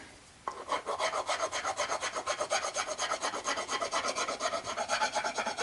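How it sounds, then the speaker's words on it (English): A wood rasp files the handle of a Cold Steel Frontier Hawk, giving a steady rhythmic rasping of quick repeated strokes, close and loud, alone after a brief quiet start. "the next thing I'm using is a wood rasp"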